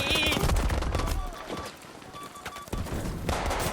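Gunfire in the WWII shooter Battlefield V, rapid sharp shots and bursts scattered through a busy battle mix, near and fairly loud, with someone talking over parts of it.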